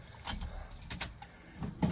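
Keys jangle and clink in a few short, close bursts while someone handles the key for an old square-body truck, with light handling noise between the rattles.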